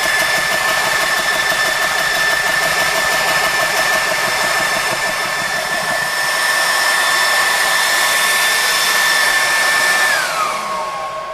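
Personal airgun air compressor on AC power running loud and steady, with a constant whine and broadband roar throughout and a slight drop in pitch near the end.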